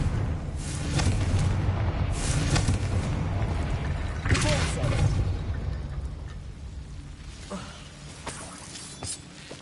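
Confringo fire spell blasts in Hogwarts Legacy on PS5, a run of loud booming bursts over continuous game music and ambience, with a voice calling out.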